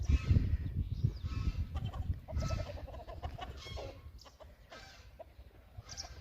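Village chickens are herded in the morning or evening, clucking and squawking in busy overlapping bursts, loudest at first and then a little softer, with no talking.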